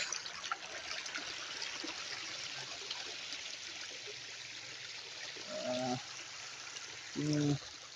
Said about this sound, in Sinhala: මේක ලස්සන වතුර පාරක් එනවා සීතල ප්‍රදේශයක ලස්සන වතුර